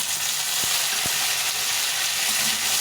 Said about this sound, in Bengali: আলুগুলো একটু ভালো করে একটু ভেজে নেব